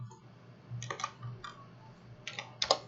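Mouse and keyboard clicks while working in Solid Edge 2022 CAD software: a few quiet, sharp, close clicks spaced irregularly, with a cluster at the end.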